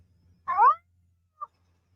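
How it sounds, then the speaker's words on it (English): A small pet kitten gives one clear, close meow, followed a moment later by a faint short chirp, against a quiet background with a low hum. "just had to make sure I heard my little kitty."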